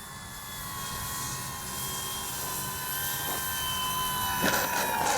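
An FMS PC-21 Pilatus RC model jet trainer flies toward the pilot with a steady high-pitched turbine-like whine that grows slightly louder as it approaches, heard outdoors without talking.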